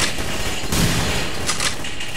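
Gunfire in the video game The Hidden, a dense, loud rattle of rapid shots with a sharper burst partway through, filling the short clip without any talk.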